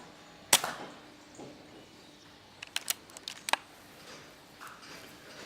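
A rifle fires during a daytime rat shoot in the countryside: one sharp crack near the start, followed later by a short cluster of faint clicks and snaps against quiet outdoor background.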